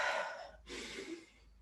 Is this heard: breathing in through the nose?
yes